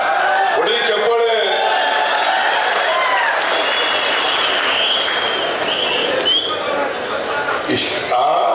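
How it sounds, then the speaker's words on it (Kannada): A crowd claps steadily and loudly at a Valmiki Jayanti celebration in H.D. Kote, a dense, sustained wash of applause with voices mixed in. "ಒಳ್ಳೆ ಚಪ್ಪಾಳೆ."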